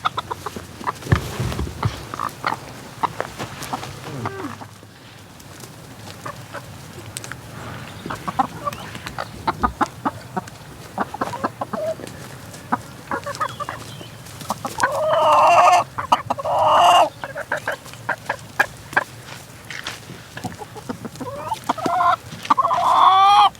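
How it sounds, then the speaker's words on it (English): Chickens cluck and call near and far while pecking at sticky sweet corn cobs on a farm, with a rooster-like burst of loud squawking late on and scattered bumps and rustles throughout. "Let's take them over to the chickens."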